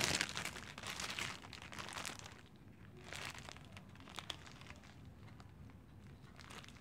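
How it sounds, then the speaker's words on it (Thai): Close, wet crinkling and squishing as pieces of fried chicken are tossed and kneaded by hand in an orange sauce, a continuous rustle that eases off midway. "แล้วก็ขยำไก่ให้เข้ากับซอสนะคะ"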